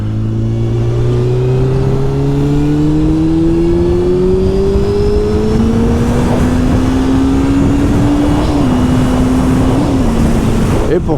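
A 1999 Honda CBR900RR Fireblade sport motorcycle engine climbs steadily in pitch as it revs up and accelerates, loud, with heavy wind roar throughout.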